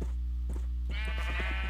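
Sheep bleating in a video game, two short bleats followed by a longer, louder wavering bleat, close and clear with no talk over them.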